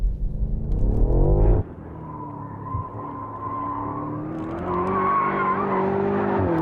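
A BMW M8 launches hard in four-wheel drive mode, its engine roaring loud and close before a gearshift drops the pitch, then climbing steadily again with tyre noise underneath.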